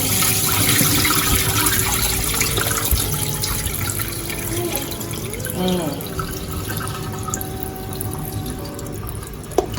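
Tap water runs in a steady, close rush while food is washed under it in a kitchen, with faint clinks and splashes as it is handled, and no talking.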